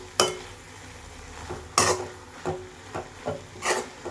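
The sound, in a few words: stirring grated coconut into a pumpkin leaf stir-fry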